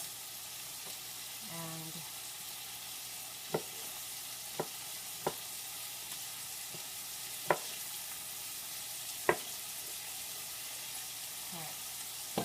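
Vegetables for a vegan artichoke, jalapeno and portabella pizza topping sizzle steadily in a stir fry pan, a soft continuous frying hiss broken by a few sharp clicks and knocks, with a brief voice at one point.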